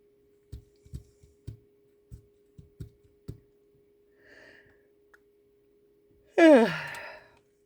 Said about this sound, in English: Oh goodness, yeah, I'm yawning.